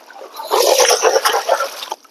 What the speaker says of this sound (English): I'll put this back down in the water, get my angle back up, give it a good shake